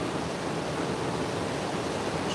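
Loud waves on the water during a catfishing trip in Kansas make a steady, broad wash of churning noise that continues without a break.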